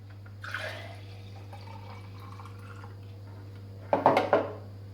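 Juice from a retro slow press juicer pours into a container in a quiet room over a steady low hum, with a faint trickle early on and a brief louder burst of splashing near the end.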